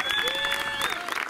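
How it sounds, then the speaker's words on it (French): A brief burst of audience clapping at a French hip-hop show, steady and fairly loud, with a tonal line and some crowd noise running underneath. "Applaudissez."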